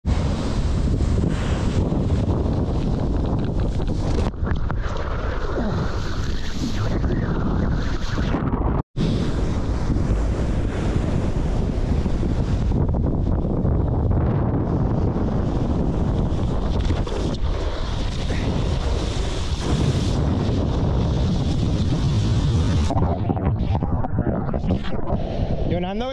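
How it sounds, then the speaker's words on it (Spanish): Large, powerful ocean waves breaking on a beach shore during a skimboarding session, a continuous loud roaring wash of surf heavily mixed with wind buffeting the microphone throughout. "¿Qué te parecen las olas?"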